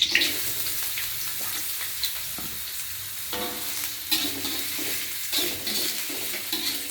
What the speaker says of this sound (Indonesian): Karena ini udah panas, aku akan tuangin bawang merah sama bawang putih